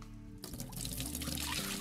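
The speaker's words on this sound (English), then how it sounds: "With a bucket, you can pour water into the aquarium or extract it with a hose." Water poured from a bucket in the aquarium game Aquarist: after a quiet start, a steady close splashing pour begins and continues to the end, with no talking.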